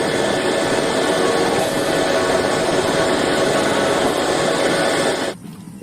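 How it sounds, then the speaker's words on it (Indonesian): Toy helicopter running continuously with a steady, loud whirring drone that stays constant before cutting out abruptly near the end, with no talking over it. "mantap ya, helikopter."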